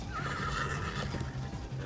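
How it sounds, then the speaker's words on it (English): Horses neigh in the video game Minecraft Story Mode, a quavering whinny rising above a dense, constant game soundscape, fairly faint and continuous throughout. "these are wild feral horses"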